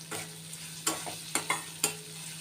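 Onions with a little turmeric stirred in a frying pan: a faint constant sizzle under a low hum, punctuated by four or five sharp scraping strokes of the spoon.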